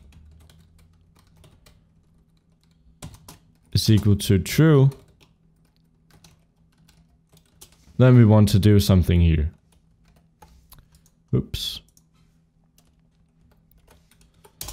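Quick clicks of a computer keyboard while code is typed for a Unity survival game, faint and scattered between stretches of someone talking.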